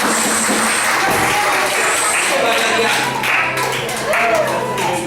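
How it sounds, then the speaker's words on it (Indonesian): Church gathering crowd claps steadily throughout, a full wash of hand claps mixed with murmuring voices and some scattered talk underneath. "Kasih tepuk tangan dong buat Bapak Julius si Bagarian."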